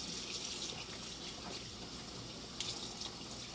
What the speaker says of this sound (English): I'm rinsing the leaf and getting all the dirt off.